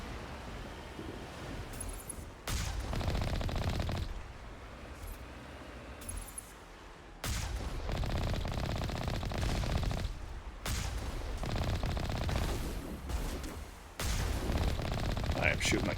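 Video game gunfire in Mass Effect as shots are fired at a turret: dense bursts of rapid shooting in several loud stretches separated by brief drops, with a player's voice talking over parts of it.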